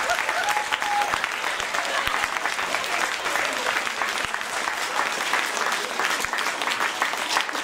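An audience at an outdoor community energy event applauds strongly, dense continuous clapping with a few louder individual claps standing out, sustained without pause.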